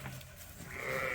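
A sheep bleats in a farm barn: a brief, close, nasal call rises out of quiet background noise near the end of a short moment.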